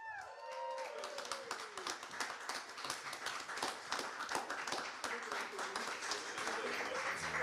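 Wedding guests at the Supper Club in Melbourne applaud a newly married couple with dense, continuous clapping from a crowd nearby, and a voice speaks briefly at the start.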